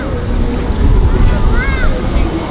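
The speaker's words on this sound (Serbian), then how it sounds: "Sad tako duva vetar." Strong wind blows outdoors on a cold London street, a steady broadband roar buffeting the microphone throughout while people talk over it.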